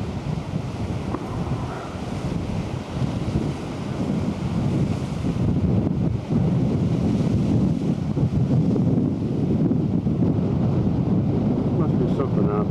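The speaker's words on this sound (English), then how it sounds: "The rocks, those waves are breaking on something right there." Ocean waves breaking on rocks offshore, a continuous roar of surf blended with heavy wind buffeting the microphone, growing louder midway and carrying on steadily.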